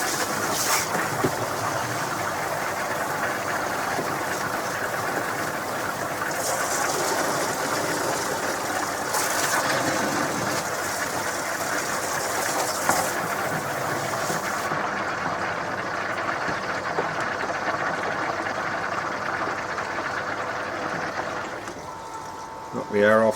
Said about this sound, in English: I'll give it a quick spray with the hose pipe.